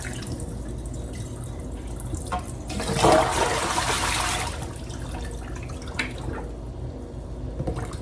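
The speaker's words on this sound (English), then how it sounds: "So I'm going to rinse it twice with cold water." Cold tap water rushes into a kitchen sink to rinse greens, a loud burst lasting about a second and a half in the middle. Quieter drips and handling noises come before and after it.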